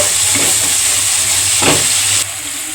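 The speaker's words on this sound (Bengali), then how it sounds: "বেশ কিছুক্ষণ ধরেই কষাতে হবে। দেখো মশলা থেকে সুন্দর তেল ছাড়তে শুরু করে দিয়েছে" Spice masala sautéed and stirred in a kadai for dhaba-style kadai chicken, a steady close sizzle and frying hiss with a few scraping stirs, continuous and fairly loud throughout.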